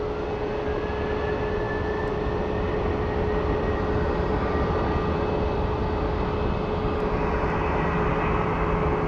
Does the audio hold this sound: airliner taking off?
yes